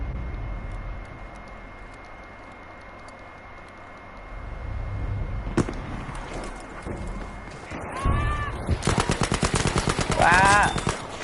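SMG gunfire in Battlefield 5 breaks out in rapid automatic bursts after a stretch of ambient battlefield noise, loud and close, with a player's voice briefly audible among the shots.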